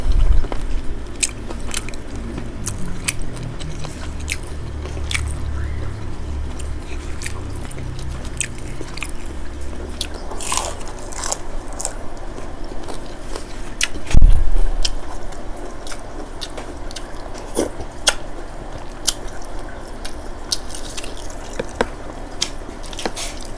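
Close, wet chewing and biting of a spicy Thai chicken feet salad, with repeated squishy crunches and smacks in an irregular rhythm and one heavier bite midway, with no talking.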